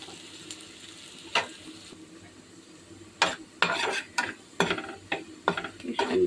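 Onion and garlic fry in a pan as base for an okra dish: a low steady sizzle at first, then a run of close, quick spatula scrapes and stirs grows busier toward the end.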